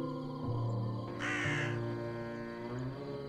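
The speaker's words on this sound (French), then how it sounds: "c'est le corbeau qui nous donne les quêtes" A crow in the video game Drake Hollow gives a few harsh caws over a steady droning game soundtrack, close and clear with no talking.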